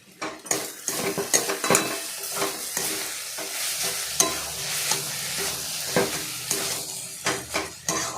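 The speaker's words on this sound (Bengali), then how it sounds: "অল্প পরিমাণে জিরের গুঁড়ো দিয়ে সেটাকে ভালো করে নাড়াচাড়া করলাম" Shrimp and papaya curry with cumin powder is stirred in a pan: repeated sharp spoon clatters and scrapes against the metal over a soft sizzle, irregular and close, no talking.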